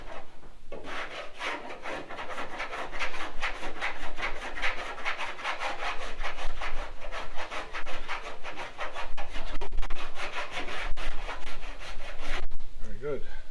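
A hand file rasps back and forth over the high spots on a Ford XY sedan's body panel in rapid, steady strokes, close and continuous for several seconds.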